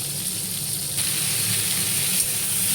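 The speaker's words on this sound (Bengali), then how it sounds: "ফুলকপিগুলো ভাজা হচ্ছে।" Cauliflower pieces frying in a pan give a steady, close hiss and sizzle that holds even throughout, with a faint low rumble underneath and no one speaking.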